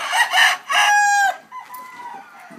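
Two loud, close crows from a Black Jap Asil Peru gamefowl come in quick succession, the second stretching into a long tone, followed by a fainter answering crow from another bird.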